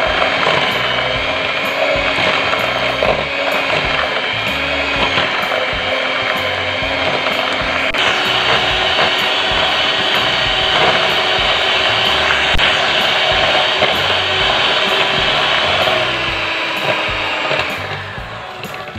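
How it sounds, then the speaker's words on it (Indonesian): An electric hand mixer beats margarine and powdered sugar in a bowl, a steady loud whirring with a rattling, ratcheting texture that runs continuously before slowing near the end. "masukkan margarin, gula halus, lalu mixer sampai semuanya tercampur rata dan warnanya putih pucat."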